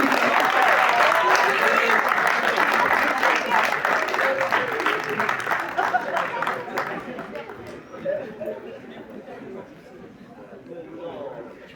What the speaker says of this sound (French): Et aussi, allez on l'applaudit.